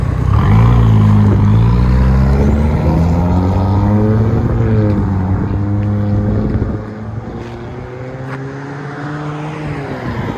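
A 2021 Chevy Silverado's 2.7L turbo engine with a straight-pipe exhaust drones loud and deep near by, with its pitch rising and falling through revs before dropping lower and quieter toward the end.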